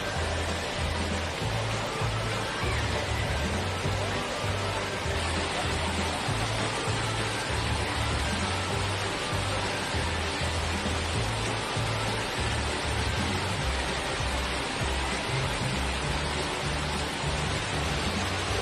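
Steady broadband rush of the second tier of Erawan Waterfall in Kanchanaburi, Thailand, a constant wash of falling water that stays even and fairly close throughout, with no voices standing out.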